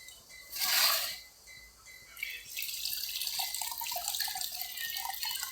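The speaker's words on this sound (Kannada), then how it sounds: "ಚೆನ್ನಾಗಿ ಚಿಕನ್ ತೊಳ್ಕೊಬೇಕು" A kitchen tap runs while raw chicken is washed, first with a short burst of splashing water, then a steadier stream with continuous splashing and trickling.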